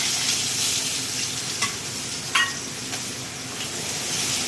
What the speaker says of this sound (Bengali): আর এই তেলের উপরে দেবো দেখো চেরা কাঁচা লঙ্কা, আর এটা হচ্ছে পেঁয়াজ।